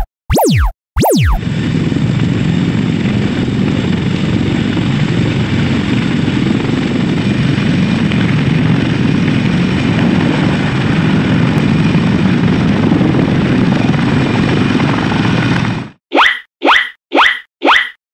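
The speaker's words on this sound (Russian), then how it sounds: "Это вертолет-транспортер." A military transport helicopter drones loudly and steadily for about fifteen seconds. Brief whooshes come before it, and a run of bouncy cartoon boing effects follows.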